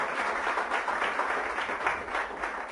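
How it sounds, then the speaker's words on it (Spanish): A church congregation applauds in a steady, dense wash of clapping that continues throughout, with no clear speech over it. "¿Por qué no le das un aplauso fuerte al Señor,"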